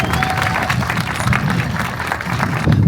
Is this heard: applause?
yes